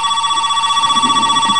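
A phone rings with a steady electronic tone, loud and continuous, while faint low sounds from a multiplayer game session murmur underneath.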